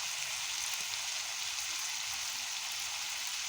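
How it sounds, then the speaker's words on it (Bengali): Whole garlic cloves, potato, pointed gourd and onion fry in hot oil with turmeric, giving a steady, faint crackling sizzle that holds evenly throughout with no talk. "এখানে দিলাম গোটা রসুন, তারপর আলু, কাঁকরোল, পেঁয়াজ একসঙ্গে এগুলি একটু ভেজে নিচ্ছি।"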